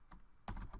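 A few quiet keystrokes on a computer keyboard while a message is typed into a Google Sites page, with a sparse light tap near the start and then a denser cluster of clicks toward the end.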